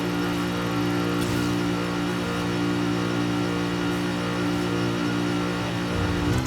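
Mercedes-Benz E55 AMG wagon engine in Forza Horizon 5, driven with a racing wheel, holding a loud, steady mid-pitched drone with slight shifts in revs, heard up close with no talking.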